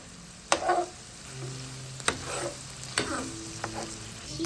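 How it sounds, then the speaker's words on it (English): Meat fries in a hot skillet with a soft, steady sizzle, broken up by several sharp utensil scrapes and clacks against the pan. No one talks. "Just trying to heat up the skillet, and I'm gonna cook this meat first"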